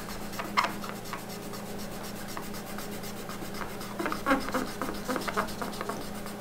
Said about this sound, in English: I'm going to use some cotton swabs, and I'm going to apply some to the surface where I'm going to bond the gauge